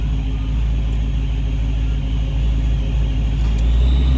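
A supercharged Foxbody engine idles with a steady, loud, low rumble that holds evenly throughout, close up and with no one speaking.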